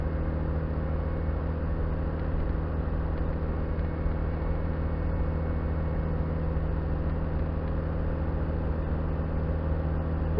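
A Land Rover Discovery 300tdi climbing a steep road in fourth gear, its diesel engine giving a steady, even drone with no talk throughout.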